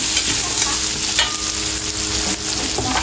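Pork ribs for caldereta sizzling loudly in a frying pan, a dense continuous hiss with stirring and scraping close by.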